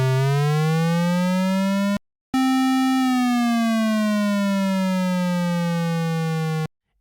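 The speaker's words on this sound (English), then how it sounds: "if I play legato, which means one note overlaps the other, you'll be able to hear a pitch slide up or down" Legato synthesizer notes in Soundation with glide enabled, each held tone sliding smoothly in pitch up then down, two long bright buzzy notes separated by a brief gap, clean and loud with no talking.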